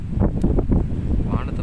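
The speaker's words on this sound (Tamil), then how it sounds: "ஆனால் செம்ம காற்று கைஸ். கேமராவே ஆடுது நான் வச்சுருக்கேன்." Strong gusty wind buffets the microphone on a night trek in the open, a loud continuous low roar with rumbling surges and no clear talking.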